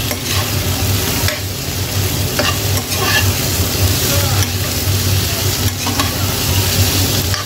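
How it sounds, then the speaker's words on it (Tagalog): Shrimp in coconut milk sizzles steadily in a pan while a utensil stirs and scrapes close by, a loud, continuous frying hiss with soft periodic stirring strokes. "konting halo pa po, mga kaibigan"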